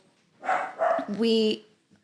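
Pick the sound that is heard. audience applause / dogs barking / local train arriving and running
dogs barking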